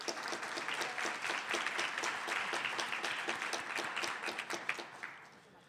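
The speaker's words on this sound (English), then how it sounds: "Please join me in a warm round of applause for all these sponsors" An audience in a City Club gathering claps in a warm round of applause for event sponsors, a dense, steady crowd clatter that holds evenly for several seconds before tapering off at the end.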